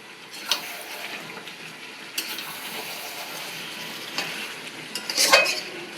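Meat being stirred and fried in a pan for a home-cooked curry, a soft continuous sizzle with occasional spoon scrapes and clinks, the loudest clatter near the end, close up with no talk.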